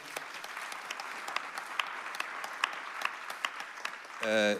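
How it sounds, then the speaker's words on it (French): An audience claps steadily throughout at an anniversary evening for an anti-death-penalty organisation, a moderate, even patter of many hands with no breaks, ending in a short burst of louder sound. "Vous pouvez l'applaudir."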